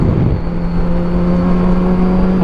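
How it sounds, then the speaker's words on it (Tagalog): A Kawasaki Versys 1000 SE motorcycle with an Arrow Touring exhaust runs close by, giving a loud steady engine hum with a sustained tonal drone and a brief rise at the start. "So yung exhaust niya guys is Arrow Touring exhaust."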